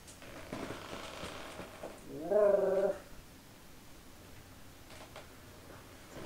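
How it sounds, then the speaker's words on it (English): A pet dog gives a short, warbling, Scooby-Doo-like vocal moan lasting about half a second, close to the microphone, between otherwise quiet stretches with faint background sound. "I didn't know dogs actually made like Scooby-Doo noises."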